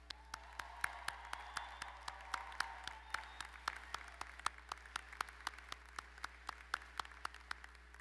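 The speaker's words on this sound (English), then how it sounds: "Please give our dedicated Broward College faculty members, your professors, a round of applause." Faculty members at the Broward College Class of 2023 graduation ceremony receive a round of applause: a soft, distant field of crowd clapping with individual sharp claps standing out.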